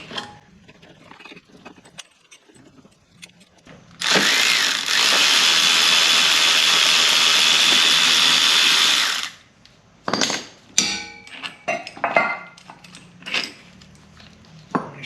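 A power tool spins steadily for about five seconds while backing a bolt off a BMW transfer case mount, loud and close, followed by scattered metallic clinks and handling noises.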